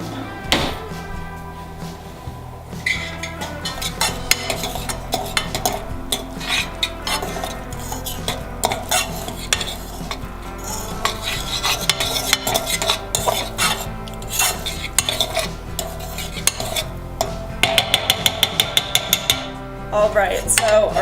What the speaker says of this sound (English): I'm gonna use a fork and just fluff that and mix it all together